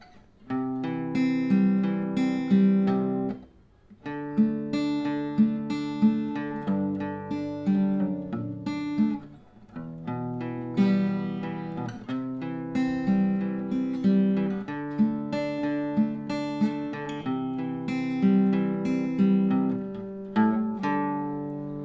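Guitar chords of a bridge strummed in a steady rhythmic progression, with sustained ringing harmonics and short pauses between phrases, played alone and close.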